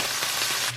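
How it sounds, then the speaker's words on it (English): Turkey bacon frying in a hot pan, a steady close hiss and crackle lasting under a second. "now we're just frying up the bacon, the turkey bacon"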